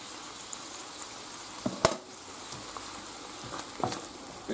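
Cream sauce with black pepper being stirred in a pan, giving a soft, steady simmering sizzle with a few faint utensil clicks against the pan, fairly quiet and close, with no voices.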